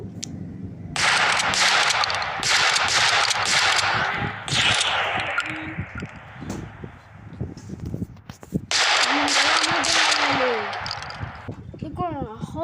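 Loud rapid bursts of gunfire in an animated story about a computer virus: a long rattling volley, a shorter burst, a pause, then another sustained barrage, closing with whooshing effects.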